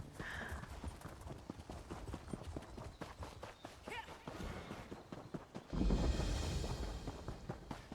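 Horse hooves clip-clop at a steady walking pace in the video game Elder Scrolls Online, close and fairly quiet, with a louder rumbling burst toward the end.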